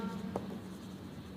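A pen scratches across paper in quiet, steady strokes close up, a soft brief writing sound with no talking.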